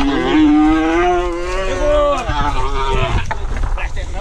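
A small mini bull moos loudly and drawn-out while held by the tail during handling on a farm, a long wavering call followed by scuffling, with people talking nearby and wind buffeting the microphone.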